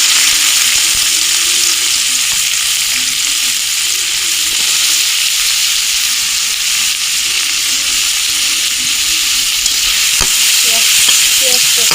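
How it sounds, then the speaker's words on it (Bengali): Chopped onion fries in hot oil in a kadai, giving a loud, steady, close-up sizzle that runs unbroken, with faint stirring and a few light utensil taps underneath. "কড়াতে আমি এখন তেল দিয়ে দিয়েছি। তেলটা গরম হলে আমি কিছুটা পেঁয়াজ কুচি দিয়ে দিব।"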